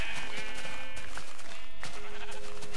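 Minecraft sheep bleat repeatedly while being sheared, loud wavering cries overlapping one another with game clicks and thumps underneath, close and continuous.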